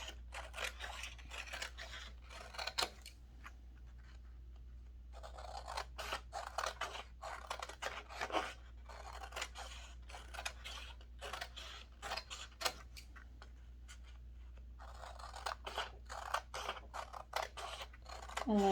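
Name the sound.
scissors cutting out paper for paper beads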